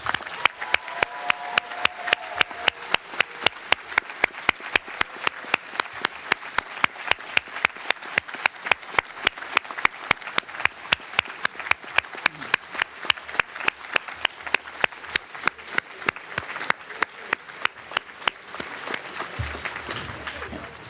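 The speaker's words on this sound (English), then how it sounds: "Let's all give them one more round of applause, please." Audience at a university graduation hooding ceremony for the Pritzker School of Molecular Engineering applauding the graduates, a long, steady round of many hands clapping that holds for about twenty seconds before tapering off.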